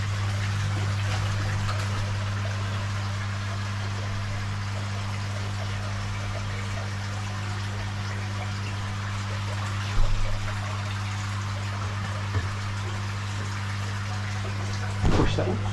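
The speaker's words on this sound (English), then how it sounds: "the water come flooding through the bottom drain" Water rushes steadily through the bottom drain of a koi pond, a constant trickling flow over a low mechanical hum, broken by a couple of brief splashes and knocks near the end.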